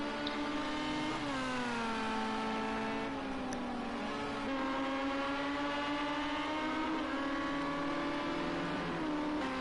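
Race cars accelerate at the Ruapuna circuit during a Battle Circuit event, a continuous high-revving engine drone whose pitch climbs and shifts through gear changes, loud and steady with no break.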